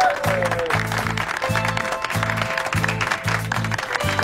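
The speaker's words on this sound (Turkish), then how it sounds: "Alkışlayalım" Audience applause after a perfect 42-of-42 score in a quiz contest on how well two people know each other, steady clapping running throughout under a loud thumping rhythmic music beat.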